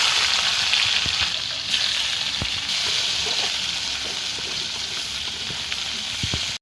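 Chopped onions fry in hot oil with cardamom, cinnamon, cumin and a torn green chili for a bhetki fish biryani, making a loud, continuous sizzle with occasional sharp clicks of utensils against the pan.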